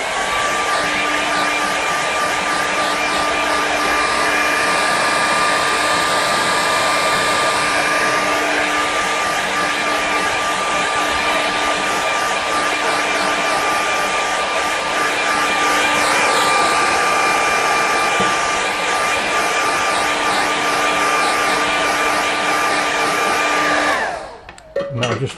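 A hair dryer blows a loud, steady whine and rush for about 24 seconds while drying a watercolour stormy-sky wash, then cuts off abruptly near the end.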